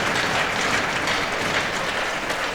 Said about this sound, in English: you'll hear a loud ovation from this good crowd here at Max Bell.